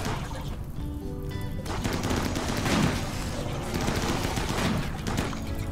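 Colonists firing guns during a fight in the video game Rimworld, with continuous overlapping crackles of shots and a rough battle din throughout, moderately loud and spread out rather than close.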